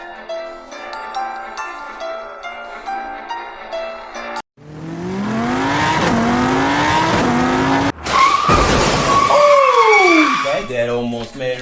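A toy-car drag race between a Corvair and a '55 Chevy plays out with loud racing-engine revs that climb and shift, a brief cut, then screeching tire squeals and further revving.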